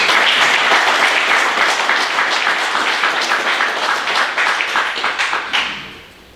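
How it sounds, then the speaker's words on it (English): Banquet audience applauding truck drivers at a trucking company's safety awards; loud, close, continuous clapping from a room of people that thins out and fades away over the last second. "Give them guys a round of applause."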